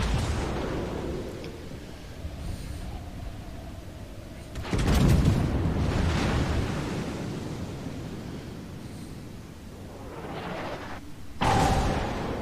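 Warship gunfire and shell explosions in World of Warships: heavy booming blasts, with the loudest arriving suddenly near the middle and again near the end, each followed by a long rumbling decay over a steady roar of sea and engine noise.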